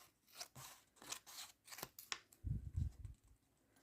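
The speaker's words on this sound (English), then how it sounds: "So I'm going to use my little scissors." A quick series of crisp snips from small scissors cutting wrapping paper for dollhouse presents, close and isolated, followed by a few soft low rustles.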